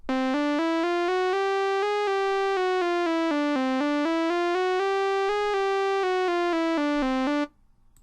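An Arturia Modular-V software synthesizer sequence plays a bright, buzzy tone in evenly spaced steps, the pitch stepping up and then back down in a repeating pattern, loud and steady for about seven seconds before cutting off.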